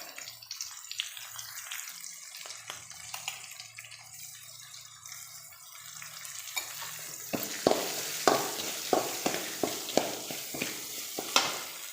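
Chopped banana stem for thoran is sautéed in a pan, starting with quiet, sparse stirring that grows into louder rhythmic scraping and sizzling over the last few seconds, close and without talk.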